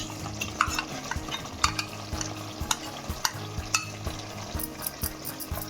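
Green chicken curry in a pan gets stirred with a utensil, close-up scrapes and clinks in an uneven rhythm over a steady background sizzle, with no talk.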